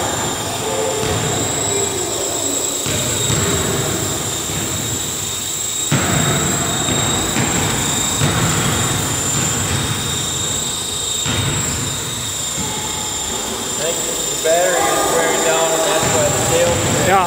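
An RC helicopter flies nearby with its rotors spinning while the tail rotor is being trimmed. A constant high whine and a whirring drone fill the whole stretch, and people talk over it.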